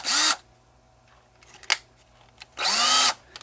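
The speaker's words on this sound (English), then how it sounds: "So I've got my handy dandy drill here." A handheld power drill gives two short, loud whirring bursts about two and a half seconds apart. A quieter clatter falls between them, and the setting is otherwise quiet with no talking.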